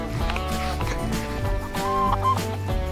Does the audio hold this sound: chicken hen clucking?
yes